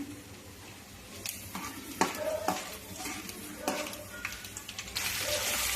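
Onion, green chilli and curry leaves fry in oil with mustard seeds and chana dal. The pan gives a low sizzle, and a spoon scrapes and knocks now and then. The crackle swells louder near the end.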